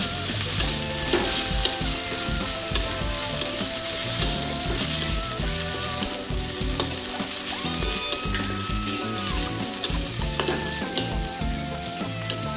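Katla fish pieces stirred into hot oil after frying golden, with a steady loud sizzle and repeated scraping stir strokes throughout, no talking.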